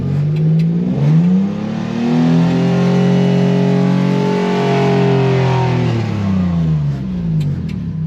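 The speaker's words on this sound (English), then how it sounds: "Now I give it some throttle." A heavy truck engine revs up under throttle in first gear, pitch rising and falling in long sweeps, loud and close throughout with no talking.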